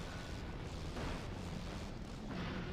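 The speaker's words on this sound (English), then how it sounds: "Rockets flying all around." Rockets flying and exploding on the Rocket Garden track of a Halo video game, a dense, continuous rumble of blasts and whooshes with swelling bursts, loud and unbroken.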